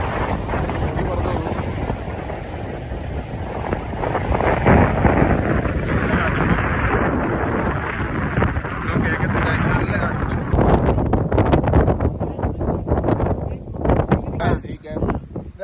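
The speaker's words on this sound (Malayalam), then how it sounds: "നല്ല കാറ്റുണ്ട് ഇവിടെ" Strong wind buffets the microphone at a hilltop viewpoint in Coorg, a loud continuous roar with gusts throughout, with voices chatting intermittently underneath.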